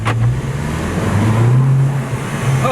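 A VW Golf GTI MK7 fitted with an AWE aftermarket exhaust runs close by with a deep, gurgling engine note that swells slightly, loud and alone.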